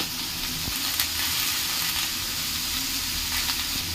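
Dal with turmeric and salt sizzling in a pan, a soft continuous frying hiss with occasional faint clicks and stirring knocks.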